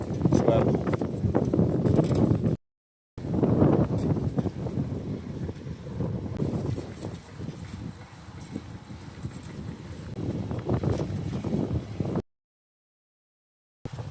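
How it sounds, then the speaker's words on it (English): Strong wind buffets the microphone during a bicycle ride around lakes, a heavy low rumble that gusts and surges almost continuously, with brief dropouts. "we're fighting the wind the whole time, as you guys are probably able to hear"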